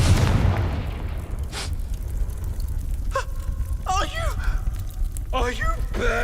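A Confringo fire spell bursts in a Harry Potter video game: a deep boom opens, then sizzling rumble, with game characters talking and gasping in short exclamations afterward.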